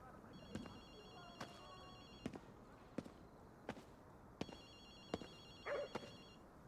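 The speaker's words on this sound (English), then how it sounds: "I hear a phone. Where is this phone?" An electronic phone in Ghostwire: Tokyo rings in repeated buzzing bursts, faint beneath the game's background and sharp knocking hits, with a voice talking over it.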